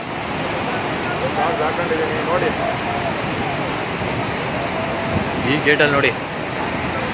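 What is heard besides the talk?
rushing water through Bhakra Dam gate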